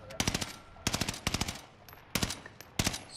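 Machine gun suppressing fire in the Warzone video game, rattling out in several short, loud bursts of rapid shots separated by brief pauses.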